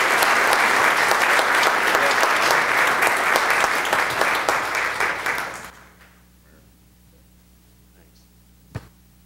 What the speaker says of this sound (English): So one more round of applause as I pass these out